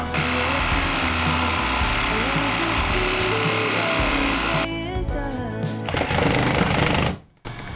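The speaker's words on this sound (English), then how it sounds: "After a minor jump scare with the jigsaw, but there was luckily no damage, I turned up the speed and got to work cutting." Jigsaw cutting a wooden kitchen worktop, a loud, steady buzzing whine that shifts pitch as the speed rises, then stops abruptly near the end.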